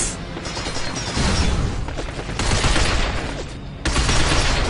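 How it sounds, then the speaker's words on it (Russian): Sustained bursts of gunfire from the video game Binary Domain, with rapid shots and booms in loud overlapping waves that keep nearly constant volume for several seconds, with no talk. "Он стреляет, смотрите, я стреляю так, он стреляет в укрытие."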